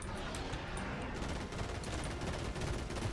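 Rapid, dense gunfire fills a Fortnite live event, a continuous loud barrage of overlapping shots with no pauses, close and unbroken throughout.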